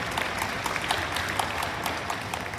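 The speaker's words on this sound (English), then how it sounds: "I think they deserve a big round of applause." At a book launch event, an audience gives sustained applause, a steady, moderately loud patter of many hands in a hall, with scattered sharper claps standing out and no speech.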